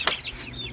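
Chicks or chickens give a quick cluck and high chirps in a short burst, close and moderately loud, with no talking.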